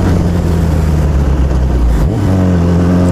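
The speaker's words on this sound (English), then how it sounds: "For my obnoxiously loud bike." A loud motorcycle engine runs close by, rumbling steadily with a coarse, gritty tone before shifting to a slightly different idle pitch near the end.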